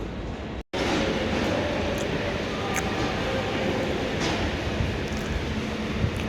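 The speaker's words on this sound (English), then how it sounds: "Now arriving in Southeastern service from Orpington. Class 465s." Southeastern Class 465 electric train arriving at London Victoria from Orpington, a steady rolling rumble of the train on the platform road, continuous and fairly close with faint clicks and squeals over it.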